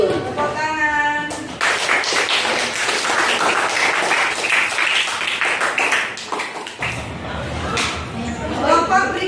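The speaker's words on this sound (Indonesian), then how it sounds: "Tepuk tangan." Audience applause at a school teachers' group presentation session, a burst of clapping after a short voice, sustained and fairly loud before fading into a voice again.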